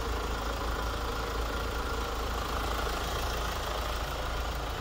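A Hyundai Santa Fe engine idles steadily with a low, even rumble and a faint rattle, close by and unchanging, with no talking.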